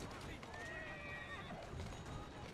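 A horse in a video game lets out a loud whinny with a wavering, descending pitch, heard over a dense bed of game noise and faint hoof clatter, with some background voice.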